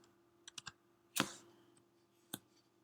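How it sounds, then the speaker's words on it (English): A computer keyboard typed on in short bursts: a few quick clicks, one louder cluster of keystrokes, then a single sharp tap, close and fairly quiet with no voices. "We're going to type in the numbers 440, 290."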